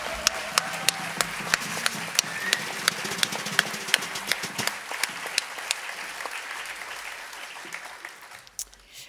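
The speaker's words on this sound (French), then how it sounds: "Je pense que vous pouvez l'applaudir" A concert audience applauds, with sharp, evenly spaced claps in a steady rhythm over a bed of crowd noise, close and fairly loud, tapering off near the end.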